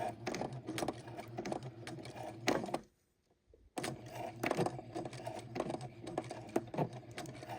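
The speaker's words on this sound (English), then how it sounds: "Back stitching at each corner." A sewing machine back stitching the corners of a fabric bib runs in bursts of rapid mechanical clatter, stopping briefly near the middle before resuming at close range.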